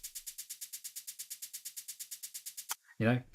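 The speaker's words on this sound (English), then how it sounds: "If I were to turn the LFO off, the shaker would sound like this." A shaker sample with LFO modulation off plays a steady, even rhythm of bright, crisp hits, about eight per second, then stops abruptly, followed by a brief burst of a voice.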